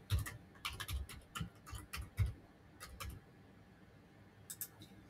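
Keys on a computer keyboard tap in short irregular bursts as a login credential is entered, crisp close clicks with pauses between groups, alone without talk.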